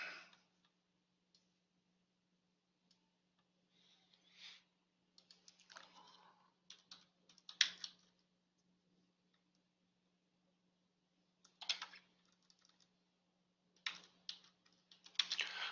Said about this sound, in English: Maybe I should just type it.